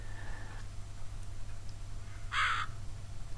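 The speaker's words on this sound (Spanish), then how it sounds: "Puto cuervo." A crow caws once in the video game Survivers, a short, loud, harsh burst standing alone over a steady low background hum.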